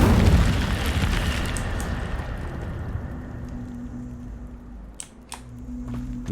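Incendio fire spell cast in Hogwarts Legacy: a dense, loud burst of roaring fire at the start that fades into a low, steady hum, followed by a few sharp crackling pops near the end.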